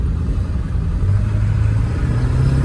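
A turbocharged Chevrolet Cavalier with a KC300x 63/73 turbo, Hydra tuner and S&B intake accelerates at three-quarter throttle, giving a steady, deep, loud engine drone from inside the car with a slowly rising low hum.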